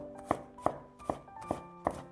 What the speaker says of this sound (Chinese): 准备几瓣新鲜的大蒜，先拍扁，然后再剁成蒜末。